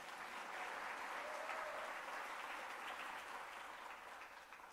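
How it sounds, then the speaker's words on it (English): Applause from an audience at a State of the City address keeps up a dense, steady clapping throughout, fairly distant and soft, tapering slightly at the end. "Now, y'all gotta clap for that."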